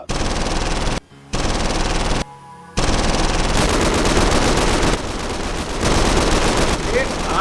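Loud, rapid automatic gunfire bursts blaze almost continuously, broken by a couple of brief gaps, harsh and close, in a Pakistani TV drama.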